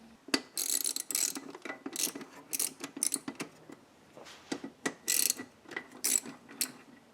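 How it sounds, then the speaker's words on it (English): Rapid metallic ratchet clicking in bursts, close up and alone, as engine bracket bolts are loosened on a Subaru engine. "with this model you have to remove these bracket bolts"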